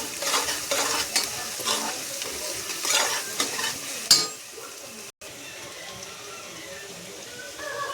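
A chili, garlic and ginger paste sizzles and spatters in a hot pan with fried onion while a spoon scrapes and stirs it, a loud crackle that settles into a softer steady fry after a sharp clatter.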